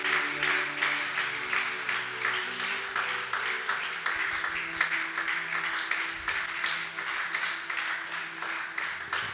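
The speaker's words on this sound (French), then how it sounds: "Quelqu'un acclame fortement pour le Seigneur." A church congregation applauding steadily after a prayer, dense rhythmic clapping that holds for the whole stretch, loud and close, with a low background hum underneath.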